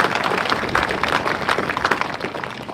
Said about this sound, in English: How about a round of applause for the parents,